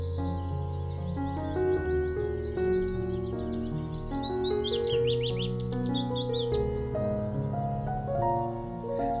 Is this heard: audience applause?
no